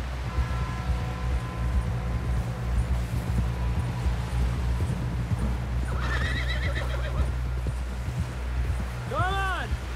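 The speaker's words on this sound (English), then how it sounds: "Someone help John down off this horse" In the Red Dead Redemption 2 video game, a horse clip-clops steadily along beneath a low engine-like drone, then gives a loud, close whinny near the end, while speech runs underneath.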